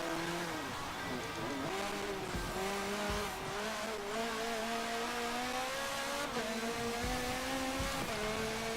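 Race car engine in Forza Motorsport 7, wet Nürburgring GP, held at a steady high drone with rising and dropping pitch through gear shifts, a brief tire squeal amid close racing traffic, continuous and loud with no talk.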